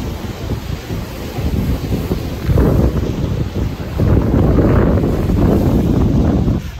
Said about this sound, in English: this is not a 6-mile-an-hour wind like the forecast said